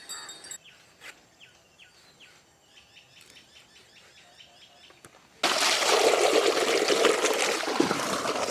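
Outdoors with birds chirping, cleaned fish is washed by hand in water, first with faint trickles and then a sudden sustained splashing and sloshing that runs loud to the end.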